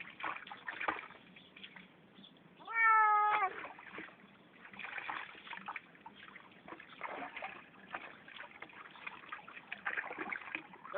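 A pet cat gives one clear, drawn-out meow close by, standing out from a quiet room with faint trickling water, and no words are spoken.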